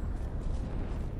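Fire Tempest spell erupting in Dark Souls II, a dense, rumbling roar of flame that fills the short moment at a steady, loud level with no pauses.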